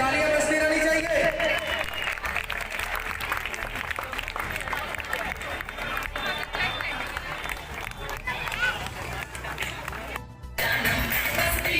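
Applause at a school or educational institution celebration in Biharsharif, Nalanda, sustained crowd clapping across the whole stretch, loud and dense, with a brief dip near the end.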